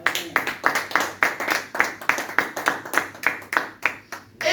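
A church congregation claps for Jesus in a steady, loud rhythm of sharp hand claps, evenly spaced and continuing throughout with faint cheering underneath.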